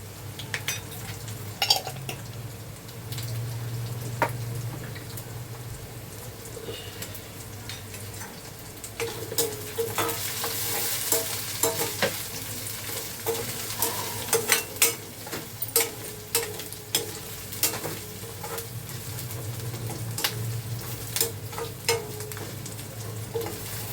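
Asafoetida sizzling in hot oil for a Maharashtrian vegetable dish, a steady fry with repeated sharp clicks and scrapes of a spoon stirring in the pan, close and without talk.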